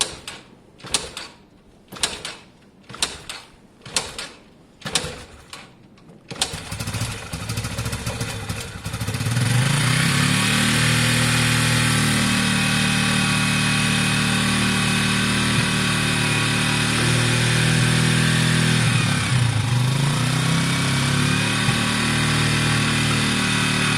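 A WK RT 125 motorcycle engine with a sound, non-leaking exhaust gives a series of sharp cranking bursts, then catches and settles into a continuous loud, close buzzing run with slight revving.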